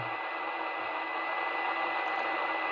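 A Yaesu FTM-400 radio receives a weak signal, which comes through as a steady, even hiss of static. The noise runs unbroken throughout at a moderate level, with no voices over it.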